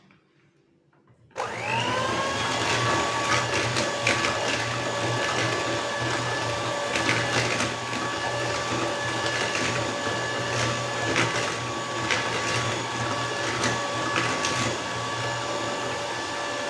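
Electric mixer beating pineapple tea cake batter after eggs are added, switching on sharply and then running as a loud, steady, close whirring hum with a constant pitch and no talk.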